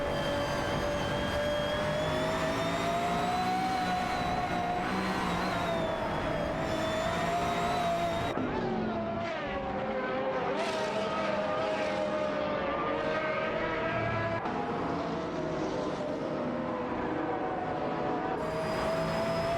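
Porsche 918 Spider and Pagani Zonda R race cars in a racing video game, their engines holding a loud, continuous high whine that shifts pitch as they push for position, with no voices.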